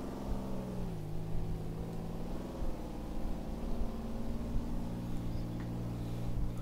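An armored car in Garry's Mod with ACF, its engine humming in a steady mid-pitched drone that dips and rises slightly as it speeds along, without talk.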